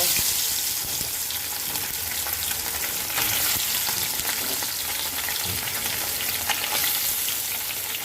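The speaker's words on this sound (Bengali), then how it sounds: "মাছ ভাজার জন্য কড়াইতে কিন্তু আমি তেল গরম করতে বসিয়ে দিয়েছিলাম এখন আমি মাছগুলো দিয়ে দেব" Fish sizzling loudly in hot oil in a wok, a steady, close, dense crackle throughout with no talking.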